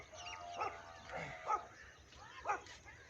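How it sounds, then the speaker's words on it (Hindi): Dogs barking in a village in the morning, several separate yips and barks at moderate distance with a whimpering tone, spread over a few seconds against quiet background noise. "ए कुत्ते तेनू वेख के भौंकण डे ने?"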